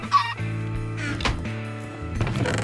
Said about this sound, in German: Da ist ein Huhn rausgekommen.